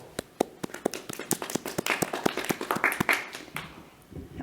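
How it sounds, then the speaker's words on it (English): A small group on a commencement stage gives polite applause, sparse individual claps at first that thicken into a light patter, then fade out near the end. "Polite applause from the stage."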